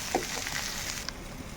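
Bitter gourd pieces frying in a pan with turmeric, giving a steady, soft sizzle with faint crackles and a brief clink of a utensil, heard alone without talk.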